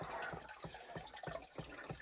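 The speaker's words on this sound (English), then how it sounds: "it's barely filling up with water, okay, because there's no pressure on it" Water trickles and drips into a whole-house water filter housing filling slowly under no pressure, with soft, irregular splashing pulses close by and quiet.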